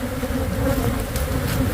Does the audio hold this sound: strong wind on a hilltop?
no